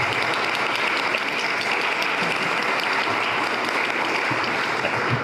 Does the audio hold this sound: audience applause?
yes